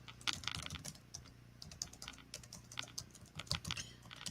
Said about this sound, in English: I'll type it in the thing